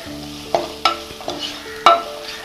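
Four crushed green chillies sauté in a pan for a mutton curry, with a soft sizzle under four or five sharp, close scraping strokes of a stirring spoon.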